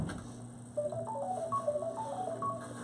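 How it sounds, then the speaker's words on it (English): Mobile phone ringtone playing a short tonal melody of rising and falling beeps during a county commissioners' meeting, moderately loud over a steady room hum with no talk. "Would we like to comment on his ringtone?"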